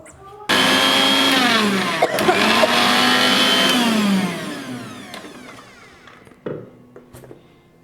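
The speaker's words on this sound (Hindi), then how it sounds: "कितने अच्छे से मिक्सी ग्राइंड में हो गया" A loud mixer grinder grinding ginger whirs steadily for a few seconds, then winds down and rattles to a stop.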